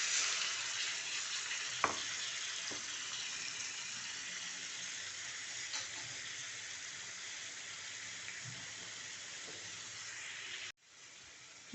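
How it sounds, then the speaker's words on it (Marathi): Marinated chicken sizzles and hisses steadily in hot oil in a kadai, with occasional clinks of stirring, until the sound cuts off near the end. "तेल तापल्यानंतर मॅरिनेट केलेलं चिकन घालूया."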